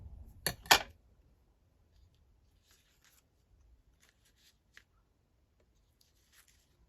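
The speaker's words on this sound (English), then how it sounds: "Let's cut this bit off." Scissors cut a piece off for a scrapbook page, two quick close snips at the start followed by faint rustles and small taps of paper in a quiet room.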